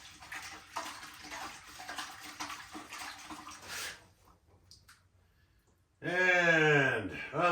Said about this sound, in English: So let's go ahead and rinse that top section. Then we'll just give the rest a splash.